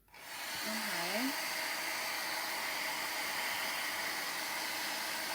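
A hair dryer blows on freshly painted cardboard for a door sign, switching on and then running as a steady, loud, close whooshing hiss, with a brief voice near the start.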